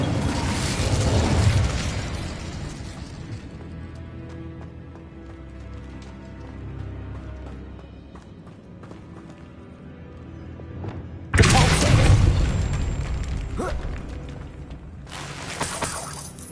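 Incendio fire spell in a Harry Potter video game, heavy whooshing bursts: one loud blast at the start, a quieter rumbling stretch, then two more sharp eruptions near the end.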